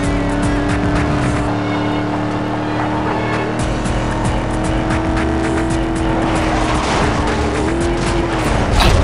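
Tires squeal steadily as a car slides through a corner in the 2005 racing game Need for Speed: Most Wanted, a loud, sustained screech over constant engine roar throughout.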